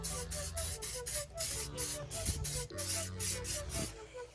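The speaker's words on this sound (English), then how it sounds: "You just spray it on about 8 to 10 inches away, just like that." Rapid, rhythmic hissing spritzes from a trigger spray bottle of interior detailing shine spray, sprayed onto SUV interior trim from 8 to 10 inches away, repeat steadily, close up, with a quiet voice murmuring underneath.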